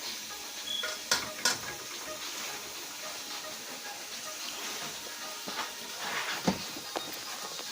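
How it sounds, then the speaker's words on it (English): Food frying in a pan gives a soft, steady sizzle and hiss, with a few sharp utensil taps and scrapes scattered through. The frying stays fairly quiet and no one speaks. "Let it fry for a minute now."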